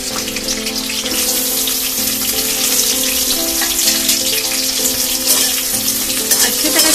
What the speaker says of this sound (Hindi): गरम तेल में परवल और आलू डाल देंगे